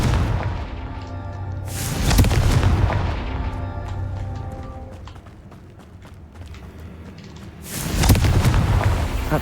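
Confringo fire-spell blasts in Hogwarts Legacy boom out as two heavy, explosive bursts several seconds apart, with crackling and clattering battle effects between them.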